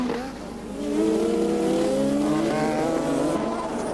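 A 1986 Formula 1 Williams and a McLaren race car scream past with a loud, sustained engine wail that climbs in pitch, a continuous high-revving roar close by.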